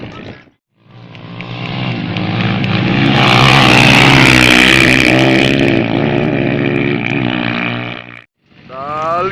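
Honda Bro and Honda CRF motocross motorcycles riding, a loud, close engine roar that revs up and sustains for several seconds, then cuts briefly before another rev begins.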